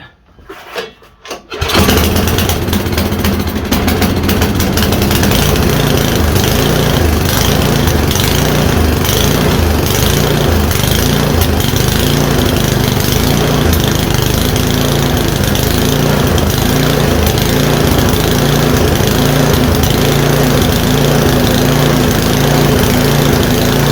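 An MTD snowblower's small engine starts after a few quiet knocks, then runs loudly and steadily for the rest of the time, with a rough, even putter close by and no talk.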